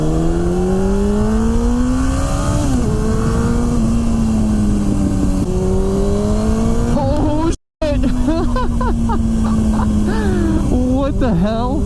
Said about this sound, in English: The exhaust is actually quite muted.